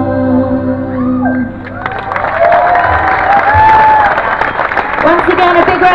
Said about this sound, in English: Once again, a big round of applause for Andy Hillhouse.